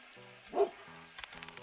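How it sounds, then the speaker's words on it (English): A single short bark from a dog in the video game Stillwater sounds over a quiet tonal music bed, followed by a few soft clicks. "I love this dog."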